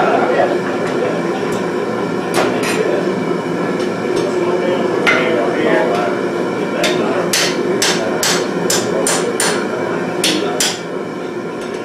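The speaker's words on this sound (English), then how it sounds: "Pretty good, fast that power hammer does." A power hammer forges a filing vise at a blacksmithing event, with loud rapid metallic blows over a steady mechanical rumble and a burst of quick strikes near the end.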